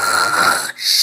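A zombie snoring in GTA 5, a loud, close, rasping inhale that breaks off briefly before another breath starts.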